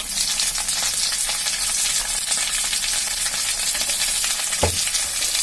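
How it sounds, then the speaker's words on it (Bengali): Sliced potatoes and round-cut onions frying in a pan make a close, steady sizzle, broken by faint scraping as they are stirred and one sharp clink of utensil on pan near the end; no speech. "দিয়ে ভালো করে নাড়াচাড়া করব।"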